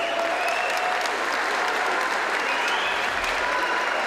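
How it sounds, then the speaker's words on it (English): Loud, dense crowd applause for two MMA fighters at the end of a bout, a continuous roar of clapping filling the arena at a constant level with no voices on top. "Big round of applause to both fighters,"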